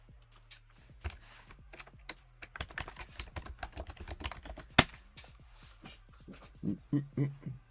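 Rapid, irregular clatter of keys on a computer keyboard, close and moderately loud, with bursts of typing and a few sharper knocks, followed by a person talking near the end.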